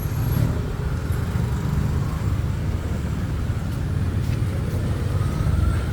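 Busy Bangkok street traffic, a dense steady rumble of cars, buses and motorbikes nearby, continuous and fairly loud with no talking.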